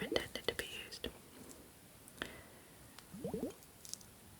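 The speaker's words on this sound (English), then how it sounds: "So this makes amazing water sounds." A squishy glitter-filled water fidget toy is squeezed close to the microphone, giving soft wet squishes and drips amid quiet whispering.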